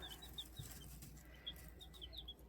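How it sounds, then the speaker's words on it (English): Brown leghorn chickens in a coop cluck and chirp, with a few brief bursts of wing flapping. The sounds are close but quiet over a low background hum. "So these are brown leghorns."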